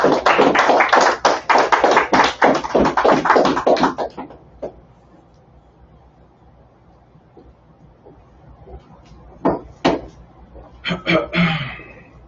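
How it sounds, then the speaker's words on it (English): A congregation at a Sabbath church service claps together, dense rhythmic applause that runs loud for about four seconds and then fades, followed by quiet room tone and a few scattered claps near the end. "Let's go ahead and clap it up for the Most High"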